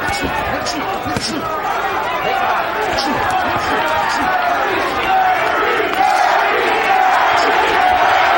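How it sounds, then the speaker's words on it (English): Boxing arena crowd during the Terry Norris vs Donald Curry fight, a dense, loud roar with rhythmic shouting that swells steadily, continuous throughout with commentator-like voices underneath. "Crowd starting to chant, Curry, Curry, Curry"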